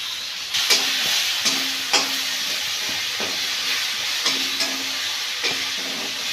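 Onions frying in a pan with a little Kissan tomato sauce added, for mixed fried rice: a steady loud hiss of sizzling oil with several sharp spatula clacks against the pan, no voices.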